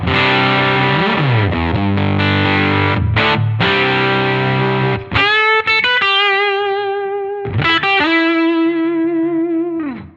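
Electric guitar through a Tonex capture of a 1965 Deluxe Reverb amp at its highest gain setting: loud distorted chords ringing out, then sustained single notes and bends with a short pause between phrases.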